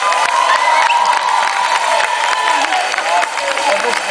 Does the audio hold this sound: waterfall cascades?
no